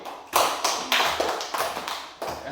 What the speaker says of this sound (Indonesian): kita kasih tepuk tangan buat Coki